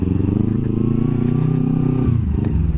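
A 2019 Kawasaki Ninja sport motorcycle, felt as heavy to ride, runs with a loud, steady engine drone that rises slightly and then shifts pitch as it changes gear.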